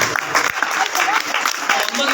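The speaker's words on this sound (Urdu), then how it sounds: "تالیاں ہو جائیں" A crowd claps steadily and fairly loudly at a school prize ceremony, with dense, continuous applause throughout and voices mixed in.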